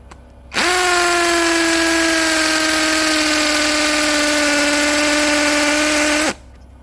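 A cordless brushless hammer drill with a 5 mm masonry bit, set to hammer mode at speed 2, bores into concrete block with a loud, steady whirring hammering whine that starts and stops abruptly.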